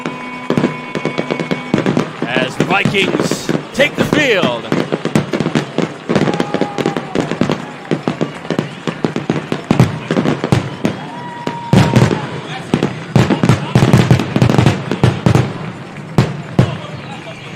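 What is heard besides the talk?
fireworks display at a high school football game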